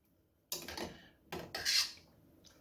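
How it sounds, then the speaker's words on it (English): A spoon is set away among dishes while a roast chicken with tarragon sauce is being cooked, making a few soft clinks and rattles in close, separate bursts in a quiet kitchen. "And we'll put that spoon away."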